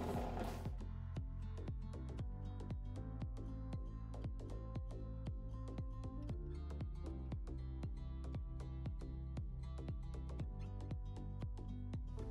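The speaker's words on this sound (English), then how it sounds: "our ice cream will be finished churning" A Cuisinart ice cream maker churns ice cream with a steady mechanical whir, its paddle and gears ticking and clicking in a regular rhythm that runs unbroken throughout, close and moderately loud with no voices.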